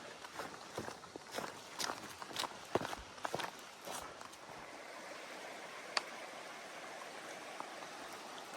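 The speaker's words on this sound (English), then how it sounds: "Walking right next to this river." A hiker on a trail walks beside a river, with crunching footsteps in an irregular rhythm over rushing water that runs steadily underneath; the steps grow sparser and the stream dominates later.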